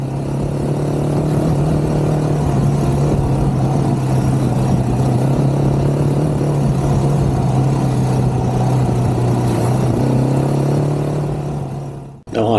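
Harley Davidson MT350 motorcycle ridden down a brown, muddy lane on knobbly tyres, a steady loud engine drone holding one pitch for about twelve seconds before cutting off abruptly.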